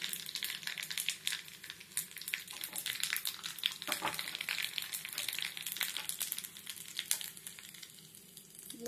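Cumin seeds dropped into hot oil with dried red chili and bay leaf, a crackling sizzle with irregular pops and spits running steadily throughout, fairly close.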